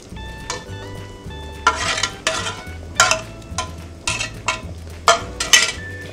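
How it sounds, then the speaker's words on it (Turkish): Sauce being stirred into yogurt vermicelli soup in a pot, with repeated bursts of close metal scraping and clinking from the spoon against the pot. The strokes fall in an uneven rhythm over a faint low hum. "Şöyle bir karıştırıyorum."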